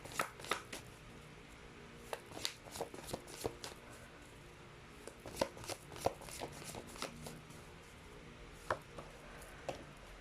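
Tarot cards are shuffled by hand in quiet, soft bursts of riffling and slapping, close and faint, repeated in irregular clusters.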